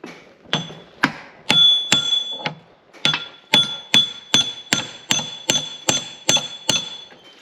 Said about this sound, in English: We're going to need a bigger hammer?